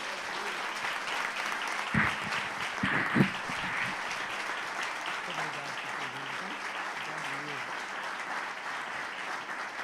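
A church congregation at an evening celebration service applauds in a dense, sustained roar of clapping, with a few louder bursts and thumps near the start and faint voices underneath.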